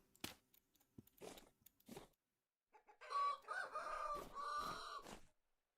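Chickens and a rooster in the Vintage Story survival game cluck in a few short bursts, then break into a louder, sustained stretch of crowing and clucking, close and without any talk.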